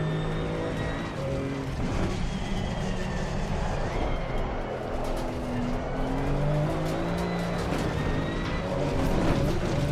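Car tires slide and squeal through corners in a racing video game, over a steady, loud engine drone that rises and falls as the car drifts, with a faint voice now and then.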